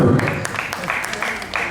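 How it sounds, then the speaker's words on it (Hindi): Scattered hand claps from children and adults at a school annual function in Chembur, a short loose burst of applause beside a loud voice, with a few distinct claps ringing out in the hall. "ताली मार थोड़ा, ताली मार"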